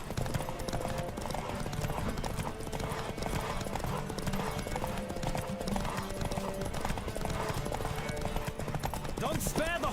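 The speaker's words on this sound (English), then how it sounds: "Don't spare the horse!" Steady clip-clop of galloping hooves in the video game Witcher 3 runs throughout with a continuous rushing background and occasional horse snorts, under music-like ambience.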